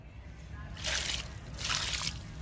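Homemade liquid fertilizer is poured onto a jasmine plant in two short splashing bursts of liquid over a quiet background.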